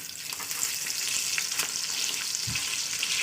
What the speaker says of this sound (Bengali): আপনার সাথে কথা বলতে বলতে আমার ডিমটা ভাজা হয়ে গেল।